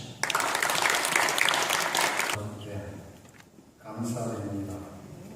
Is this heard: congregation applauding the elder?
yes